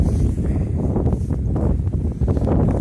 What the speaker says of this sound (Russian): А здесь вот прям дует, дай боже.